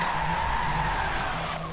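Tyres skid and squeal amid loud engine noise as a Porsche 996 race car is rammed from the left during an online race at Circuit of the Americas in Forza Motorsport 7, a continuous scraping screech lasting under two seconds.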